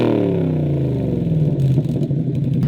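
A 600-horsepower Coyote V8 swapped into a Shelby Daytona revs loudly and up close, its deep, rumbling exhaust note climbing and falling steadily throughout with no talk over it.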